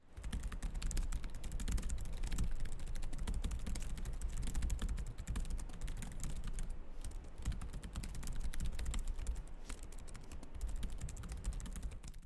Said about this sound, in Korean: 저소음, 가벼운 타건감 위주의 세팅이라서 크게 호불호 없이 입력할 수가 있어요